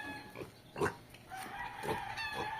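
A pig at a roadside in a neighborhood gives a few short grunts and snorts, close by, with a brief louder squeal-like grunt near the start and softer vocal sounds following.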